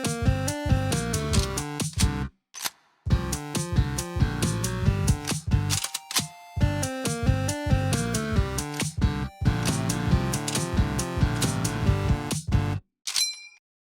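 Chiptune-style music from a tracker composition plays back continuously with dense metallic, mechanical percussion and tonal parts, briefly cutting out in short gaps and ending with a single high ping.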